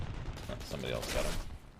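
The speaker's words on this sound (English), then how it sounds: "Somebody's machine gunning me" Rapid machine gun fire in a first-person shooter game, a dense crackling burst that runs through most of the moment at moderate distance, with a voice speaking over it.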